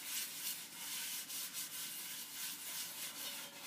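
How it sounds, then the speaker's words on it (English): A napkin rubbing grease over the bottom of a cast iron pot, a soft, continuous close-up scrubbing swish in quick back-and-forth strokes, faint and without speech. "you're just going to rub it all over the bottom of the pot"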